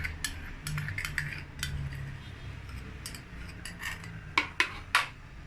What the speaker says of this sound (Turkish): İyice karıştıralım.